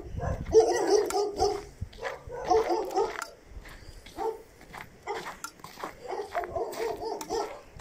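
Several dogs bark near a rural plot by the Maritsa river, sharp repeated bursts in uneven clusters, close and loud, with brief pauses and some faint background sounds between them.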